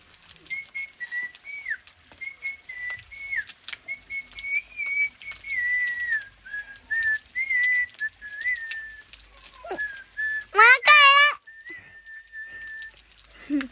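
A person whistles a melody up close, holding long steady notes with short pauses, then breaks into a quick warbling trill before the tune resumes.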